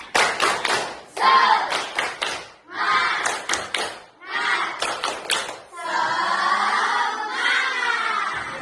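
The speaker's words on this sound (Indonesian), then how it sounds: "Tepuk semangat." A group claps a rhythmic spirit clap in bursts of quick, patterned claps separated by short pauses, with crowd voices shouting along during the later stretch.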